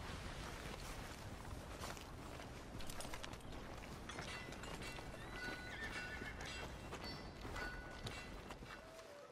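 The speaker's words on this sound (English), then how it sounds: "Here's your horse back, friend." Horse in the video game Red Dead Redemption 2 at Horseshoe Overlook: hooves clip-clop steadily with a neigh and whinny, set in a busy game ambience with no talking.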